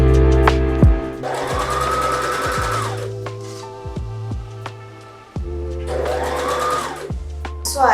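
Sewing machine stitching darts into thrifted clothing, two short close runs of whirring stitches separated by a pause, with background music throughout.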